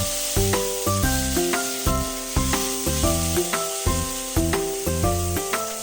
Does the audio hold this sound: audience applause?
no